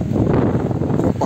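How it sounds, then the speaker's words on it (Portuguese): Gusty outdoor wind buffeting the microphone, a loud, continuous rumbling roar with no speech. "Desculpa o vento"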